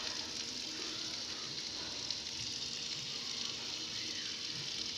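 Water from a hose sprays onto a gravel parking area of crushed stone beside a garden of trees, giving a steady, continuous hiss and rush that holds even throughout, with no talking.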